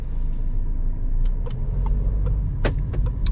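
A 2021 Peugeot 5008 pulls away and drives at night, its engine and road noise forming a steady low rumble with a few light clicks and creaks from the cabin.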